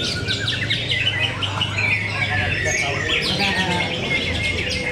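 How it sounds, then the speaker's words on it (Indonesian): Many songbirds chirp and trill at once in a dense, loud chorus at a bird-singing contest in Indonesia, with a low steady hum and crowd murmur beneath. "Kayak pasar burung ramenya."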